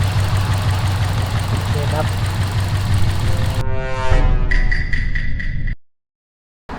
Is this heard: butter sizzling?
no